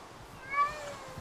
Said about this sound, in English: this kitten is adorable